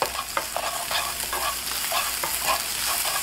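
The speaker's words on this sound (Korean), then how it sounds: "베이컨을 볶아서 기름기 좀 뽑아주시고요. 약간의 잡내 이렇게 제거해주시고 그리고 양파 볶아줍니다." Bacon and onion sizzle and crackle steadily in a frying pan, with a spatula scraping and stirring at an even rhythm, close and moderately loud, no voices.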